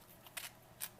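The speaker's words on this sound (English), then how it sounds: "I'm going to go and rip this cheese open" Two quick, crisp tearing rips as an MRE cheese spread packet from a 2011 U.S. military Southwest Beef and Beans ration is torn open, close and fairly quiet, with no talking.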